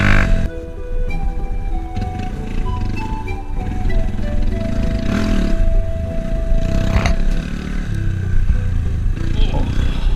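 A Honda Grom motorcycle rides through sandy bush, its small engine droning loudly and steadily for about ten seconds, with revs rising and falling and a few surges along the way.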